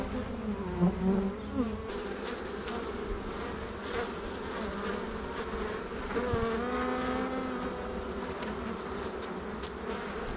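Honey bees buzz around their hives in an apiary, a steady, dense drone of many bees with individual bees passing close and whining by, and no voices.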